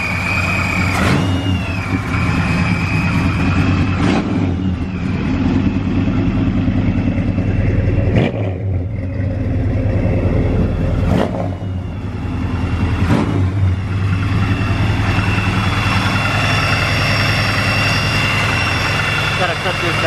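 A 1974 Chevrolet Nova engine idles with a newly fitted, untuned carburetor, a steady low rumbling drone lasting the whole stretch, punctuated by several sharp clicks or taps.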